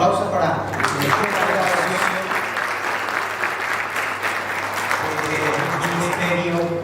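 A church congregation at a youth conference gives a sustained round of clapping for the youth ministry, steady and fairly close, with a voice speaking over it.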